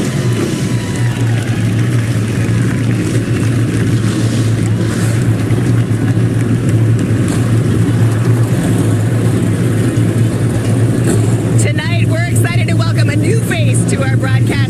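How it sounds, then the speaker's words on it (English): Race car engines start up and rev together at Five Flags Speedway, a loud continuous mechanical roar that holds steady throughout and turns harsher and more broken near the end. "Drivers, start your engines."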